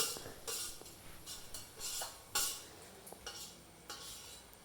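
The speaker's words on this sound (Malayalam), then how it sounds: "ഇത് ഇളക്കി ഇളക്കി ഇളക്കി നന്നായിട്ട് നല്ല പേസ്റ്റ് പോലെയാകും" Spoon scraping and stirring a thick masala paste in a pan for chicken curry, with repeated soft scrapes and clinks at an uneven rhythm, close and fairly quiet.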